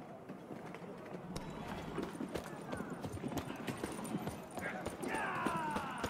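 Horses gallop with a steady clip-clop of hooves in The Witcher 3: Blood & Wine, under ambient battle sounds and shouting voices during a castle capture.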